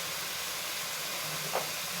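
Tomatoes sautéing with salt in a pan for a tomato kurma give off a faint, steady sizzling hiss, with one brief soft spatter near the end.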